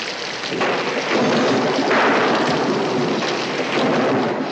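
A thunderstorm with heavy rain roars loud and continuous, with a deep rumble of thunder swelling in and rolling on under the steady downpour.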